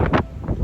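Strong wind buffets a ship at sea on a voyage from Cochin in heavy rain, a loud, close gusting roar in uneven surges.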